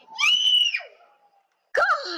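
Two loud, piercing screams from a person, the first rising and sliding down over about a second, a short silence, then a second shrill scream breaking in, during a tense round of the game Flee the Facility.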